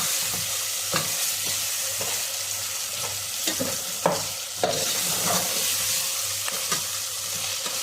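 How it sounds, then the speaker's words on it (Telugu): Ginger-garlic paste, cinnamon-clove powder and kasuri methi fry in a pan for a brinjal, raw mango and mutton curry, producing a continuous close sizzle with periodic scraping stirs of a spoon and no talking. "చెక్క లవంగా పౌడర్, కసూరి మేతి ఈ 3 వేసుకునేసి కొంచెం బాగా ఫ్రై చేసుకుందాము"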